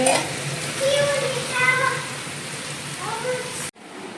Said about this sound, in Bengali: আলু ভাজা হচ্ছে ভাজা